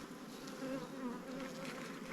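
Honey bees in a hive hum in a soft, continuous drone, a few nearby wingbeats rising above the steady buzz, no talking.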